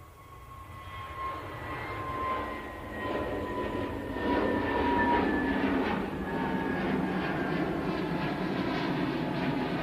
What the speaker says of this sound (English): EasyJet on the roll, off to Alicante,